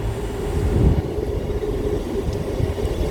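Train rumble at a railway station, a low steady roar with a swell near the start as rail cars roll past close by, continuing alone without talk.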